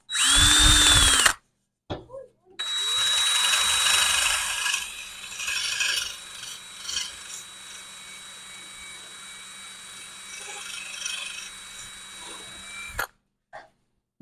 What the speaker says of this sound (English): It's eating through the one of these little sanding discs I've got